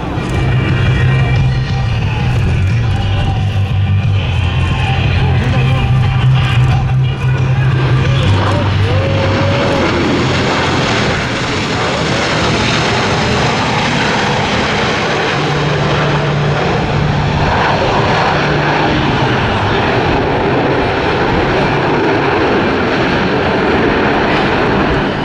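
Blue Angels Diamond formation of four US Navy jets passing at an airshow, a loud sustained roar that builds and lingers across the whole stretch, with a public-address announcer talking over it.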